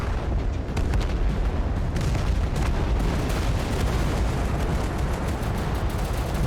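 Artillery fire in the war strategy game Total Conflict: Resistance, a dense, continuous barrage of booming blasts and crackling impacts layered into a loud, rumbling roar with no pauses.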